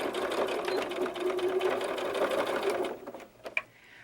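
A sewing machine stitches the sleeve seam of a small doll jacket, running in a steady continuous whir for about three seconds before stopping, followed by a few faint handling clicks.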